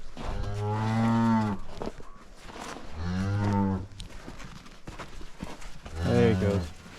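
A calf and cow moo in a farm pen, three long, loud bellowing calls spaced a few seconds apart, with soft hoof shuffling and faint clatter in between.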